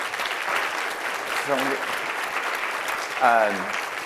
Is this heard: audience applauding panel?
yes